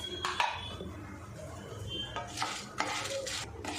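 A spatula scrapes and clinks in a pan as dried red chillies fry, giving short metallic scrapes over a faint sizzle, close and fairly quiet.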